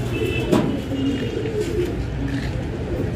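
Saharanpuri cross Bajre pigeons coo softly in a loft at Ustad Shama Haji's, low murmuring calls steady through the clip over a faint background hum.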